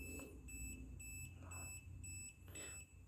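A ZOYI AC voltage detector held near a live electrical cable gives a faint, steady series of high electronic beeps, repeating at a regular pace, with no talking.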